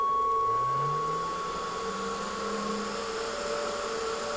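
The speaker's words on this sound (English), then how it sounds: "turn the spindle on." A CNC router spindle spins up and runs at full speed, its rising whine settling into a steady, loud mechanical hum with a high-pitched tone, no voices.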